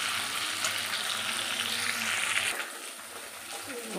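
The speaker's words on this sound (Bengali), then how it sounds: "দেখো চিংড়ি ভাজা হচ্ছে" A soft, continuous sizzle of shrimp frying in a pan, steady and fairly quiet, briefly dipping before resuming.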